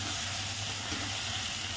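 Tomato roasting with garlic in a pan on the stove, giving a continuous, close, fairly loud hiss and sizzle that holds steady throughout, with no talk.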